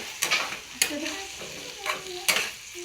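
Oil frying in a pan at home, with a steady soft sizzle broken by four sharp bursts of stirring and scraping at close range; faint background sounds but no clear talk.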